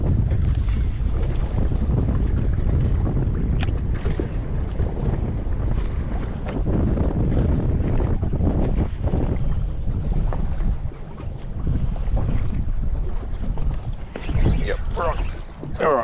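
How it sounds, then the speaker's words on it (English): Strong wind gusting across a microphone while out fishing on a boat at sea, a loud, steady roar with buffeting rumble and water noise throughout. "it looks quite windy at the moment"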